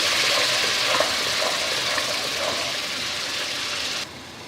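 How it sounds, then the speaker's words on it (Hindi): Ginger and garlic paste fries in a pan for a chicken and potato curry, giving a steady, close sizzle that continues evenly, then drops slightly quieter near the end. "अब हम इसमें अदरक और लहसुन का पेस्ट शामिल कर देंगे। और इसको 1-2 मिनट फ्राई करेंगे।"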